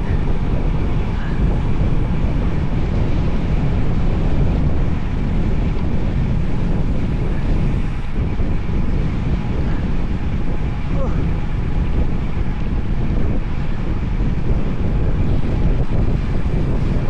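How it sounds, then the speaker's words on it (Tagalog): Steady, heavy wind roar buffets the microphone throughout a long, windy road bike ride, a continuous loud rumble with faint voices of riders talking now and then beneath it. "Tsaka yung hangin nasa kaliwa, kaya sobrang bigat"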